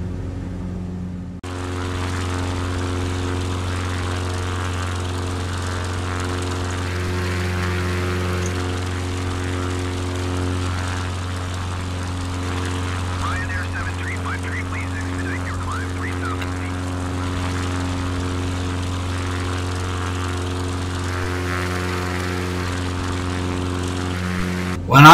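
A propeller plane engine drones steadily in a flight simulator game, a constant loud buzzing hum with stable harmonics lasting throughout, no speech over it.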